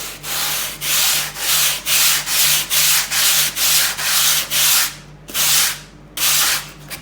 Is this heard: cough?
no